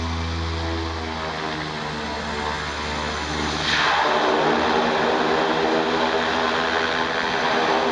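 A propeller plane engine runs up on a runway before takeoff, droning steadily, then swelling louder midway into a sustained, powerful roar, with no voices.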